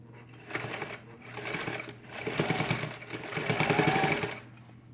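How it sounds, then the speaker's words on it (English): A sewing machine top stitching close to the edge of a tote bag, running in several loud, steady bursts with short pauses between them and a continuous hum underneath. "I'm going to top stitch this edge here just to close the opening."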